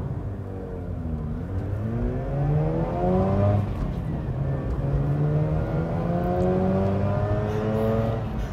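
A 2004 Mazda RX-8 rotary engine revs up and down repeatedly at moderate distance, its smooth rising and falling drone sweeping through several climbs with no talking.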